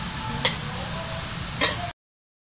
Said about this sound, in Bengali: এদিকে খিচুড়ি, চাল ডাল মোটামুটি ভাজা হয়ে আসছে।